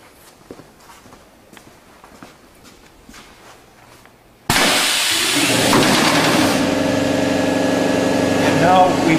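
A cushion filling machine running a dry cycle: after a quiet stretch of faint clicks and taps, it starts abruptly halfway through into a loud, continuous hissing mechanical hum close by.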